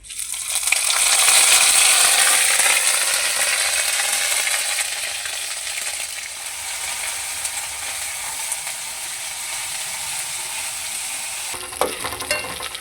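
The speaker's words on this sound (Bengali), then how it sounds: "আদা বাটা কাঁচা লঙ্কা শুকনো লঙ্কা বাটা একসঙ্গে আমি নাড়াচাড়া করে নিয়েছি" Ginger, green chili and dry chili paste fry in a hot pan while being stirred for a taro dish, giving a loud, steady sizzle that eases slightly, then a few scraping stirs near the end.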